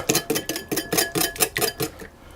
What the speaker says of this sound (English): I'm just going to mix the eggs to break them up